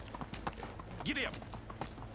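Horse hooves clip-clop at a riding pace in the medieval life game Medieval Dynasty, with quick rhythmic hoofbeats under a voice and a brief rising whoosh midway.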